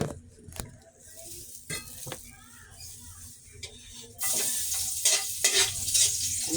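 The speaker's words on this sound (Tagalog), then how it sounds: "Magluluto ko ng sinangag, ha?" Garlic fried rice (sinangag) sizzling and being stirred in a large pan, with scraping and clinks, the sizzle growing louder and denser near the end; faint background voices.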